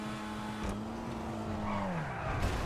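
A fast car in the GTA 5 video game drives and skids, with a sustained engine tone sliding down in pitch as the tires scrub, plus a couple of sharp transient knocks, up close with no talking.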